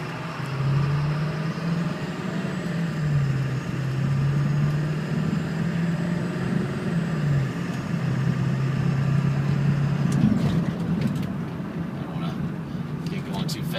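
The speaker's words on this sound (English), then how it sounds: "it's an old truck, so it's got some, rattles and some whatevers," An old pickup truck driving with a low droning engine hum and road noise, steady throughout with a shifting engine tone, and a person talking over it inside the cab.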